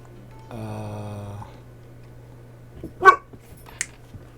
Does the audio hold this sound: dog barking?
yes